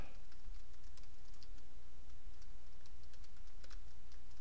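Password being typed on a computer keyboard, a quick run of light key clicks over a steady low hum, fairly close and moderately quiet, with no talking.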